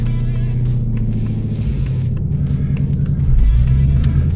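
A Ford Mustang with a manual gearbox and V8 engine rumbles steadily up close, its deep exhaust growl rising slightly toward the end.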